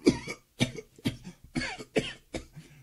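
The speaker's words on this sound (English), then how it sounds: "Coughing." Six harsh coughs in a row, evenly spaced with short pauses between, close and fairly loud.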